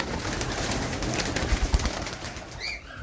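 A pigeon caught in a homemade bird net, heard as soft cooing and wing flutters over steady outdoor noise for a few seconds.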